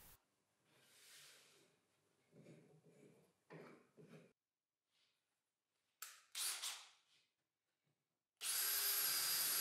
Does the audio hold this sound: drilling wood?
yes